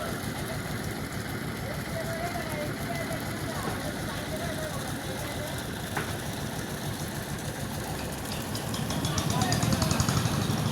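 Boat engine running with a steady low droning rumble, growing louder toward the end, while people talk over it.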